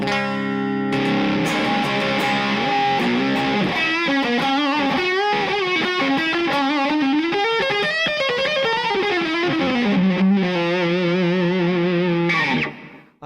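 A distorted electric guitar through a Seymour Duncan SFX Power Grid pedal, EQ set flat, plays a thick, saturated melodic line alone, sustained and even in tone, ending with a brief noisy cutoff.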